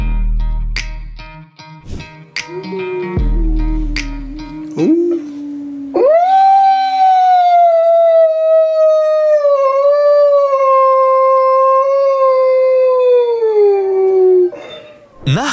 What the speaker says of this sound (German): Nachts macht ihr Heulen aber bestimmt die Nachbarn sauer.